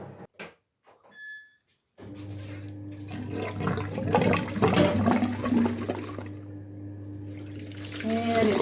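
Drainage water gushing out over the top of a gravel soakaway outside a house, a steady loud rush of pouring water that starts abruptly and continues throughout, with a low constant hum beneath it.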